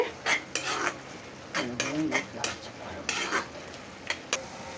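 A spoon scrapes and clanks against a pan while prawn thokku sautés, with sharp metallic knocks at irregular intervals over a low sizzle.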